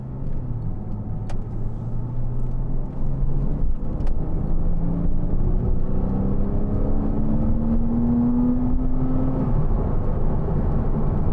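A 2012 Porsche Cayman 987 with a 2.9 engine and PDK gearbox accelerates on a test drive, its engine note climbing steadily through quick seamless upshifts. Heard from inside the cabin, loud and with no talking.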